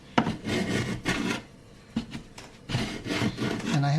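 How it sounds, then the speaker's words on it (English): A hand plane shaves carefully along a wooden binding in short, close rasping strokes with brief pauses between passes, no voices present. "I'm just very carefully planing this down"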